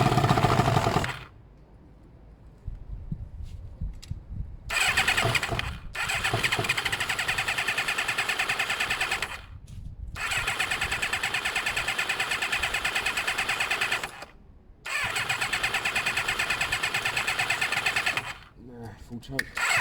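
A Kawasaki ZL600 Eliminator motorcycle with recent carburettor work cranks and starts repeatedly, running roughly for a few seconds at a time before stalling into short silences. A person talks between attempts.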